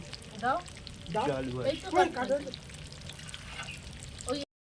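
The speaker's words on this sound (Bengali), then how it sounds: "এ দেখো আলুগুলো ভাজা ভাজা হচ্ছে" Potatoes fry in a pan at a rooftop picnic, giving a low sizzle beneath a person talking close by through most of the moment.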